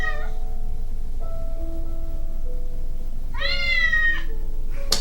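A cat meows several times through a human-to-cat translator app, with long harmonic calls near the start and middle separated by steady tonal beeps from the device, all close and clear, with no talking.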